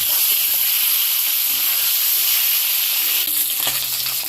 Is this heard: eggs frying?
yes